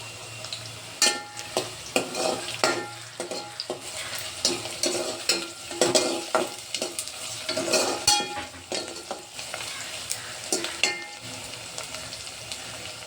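Bay leaf and curry leaves sizzling in a hot pan while cooking chicken rassa, a steady fry with repeated sharp clicks and scrapes of stirring throughout, close and clear with no talk.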